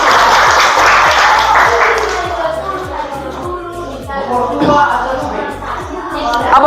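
Audience applause in a classroom session breaks out as steady clapping from a small group, fading midway and swelling again, with voices chattering underneath.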